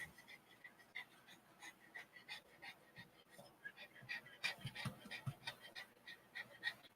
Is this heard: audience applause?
no